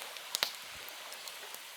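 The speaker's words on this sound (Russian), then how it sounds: "Шум волны" Small waves lap against the shore of an Upper Volga lake on a windy night by a campfire, making soft wet splashes and a couple of sharper slaps over a constant faint hiss.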